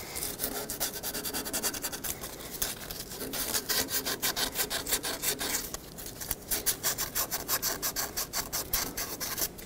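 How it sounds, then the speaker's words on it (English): Sandpaper scrubs rust from the wheel cylinder bore of a rear brake backing plate on a 1995-2004 Toyota Tacoma. The rasping strokes come in a quick, steady back-and-forth rhythm, close up and with no talking. "take a little piece of sandpaper and just clean out the inner bore of this cutout because the old wheel cylinder did form a ridge of rust"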